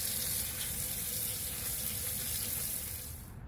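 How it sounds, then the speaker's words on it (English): Tap water runs steadily into a sink while plums are washed, a constant close splashing flow that tapers slightly at the end. "First, thoroughly wash the plums."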